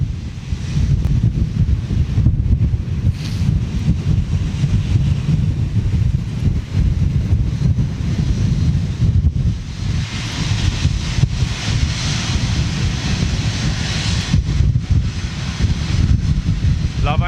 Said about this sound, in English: Yeah, hot jet blast.